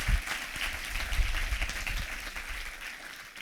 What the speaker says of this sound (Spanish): ¿Cuánto le da un aplauso a Jesús?